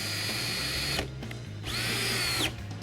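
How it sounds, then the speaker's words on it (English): An electric screwdriver whirs in short bursts while driving screws into a silver four-colour two-station screen printing press, loud and close, with a brief pause between runs and a rising whine at the end. "Just use your screws, electric screwdriver or manual screwdriver if you don't have an electric one."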